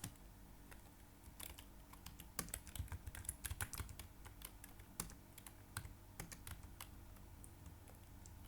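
Rapid typing on a computer keyboard while configuring DNS settings in VirtualBox, a quiet, close, irregular stream of light key clicks with no voices.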